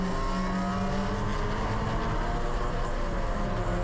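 Race cars during an amateur race weekend, a loud continuous engine roar with shifting revving tones as cars run on track, sustained and steady throughout with no talk.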